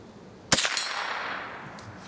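A single sharp .22 rifle shot fired at a squirrel with CCI Blazer rimfire ammunition, a sudden crack after a quiet moment followed by a brief ringing decay outdoors.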